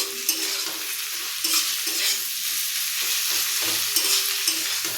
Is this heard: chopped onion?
yes